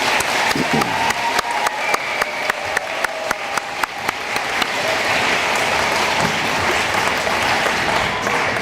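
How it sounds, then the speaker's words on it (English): A crowd at an adult high school and equivalency graduation ceremony applauds the graduates, with distinct claps early that swell into dense, sustained applause filling the hall. "How about another round of applause for our graduates?"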